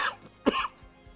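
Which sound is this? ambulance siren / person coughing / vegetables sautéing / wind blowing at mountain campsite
person coughing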